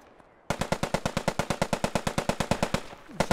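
Sustained machine gun fire in a World War II video game set during Operation Overlord at Utah Beach. A loud, close, evenly paced burst of about twenty-five rapid shots starts abruptly after a brief quiet and runs almost to the end.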